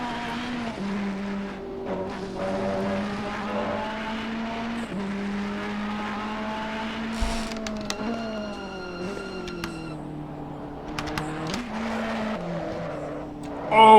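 A red Ferrari race car in Assetto Corsa Competizione at Bathurst loses the rear coming out of a corner. A loud, steady engine drone shifts pitch through gear changes, with brief tire squeal and other cars nearby.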